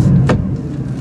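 Mercedes C63 AMG W204 with a Stage 3 tune and IPE headers, giving a short, loud burst of deep engine rumble with one brief sharp rev spike near the start.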